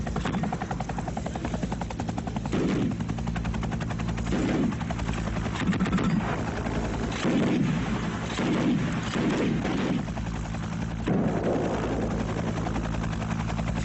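An Afghan Air Force Mi-8 attack helicopter flies overhead at a steady distance, its rotor drone continuous and loud across the whole stretch, with rhythmic blade thumps pulsing through it.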